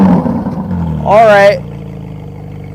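A BMW engine with a 4.5-litre motor roars through a loud rev lasting about half a second, rising and falling in pitch, while someone talks just before and after it.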